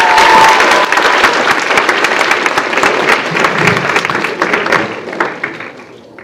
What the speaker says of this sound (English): Let's give one more round of applause for everyone.